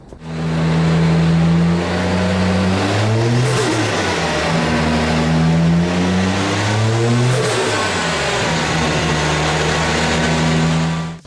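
A Toyota Chaser JZX100 with a 1JZ-GTE engine and plug-in Link ECU revs hard during dyno power runs, its loud engine note sweeping up in pitch, dropping off, then climbing again in repeated pulls.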